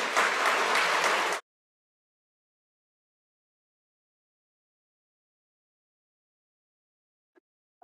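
An audience at a ceremony honoring students for Seals of Biliteracy gives a short, loud burst of applause that cuts off abruptly into silence, with only a faint blip near the end.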